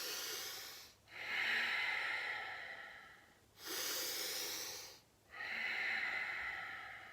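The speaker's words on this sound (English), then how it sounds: "let's just take a couple really quick breaths just to get the lungs ready to move" Three quick, forceful breaths, each a sharp inhale or exhale through the nose during a seated chair yoga exercise, separated by brief pauses, close and breathy with no talk.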